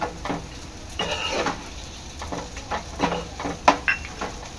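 Octopus masala being stirred in a pan after adding garam masala and kokum, with scraping spoon strokes, soft clinks against the pot and a low sizzle underneath, in irregular bursts close by.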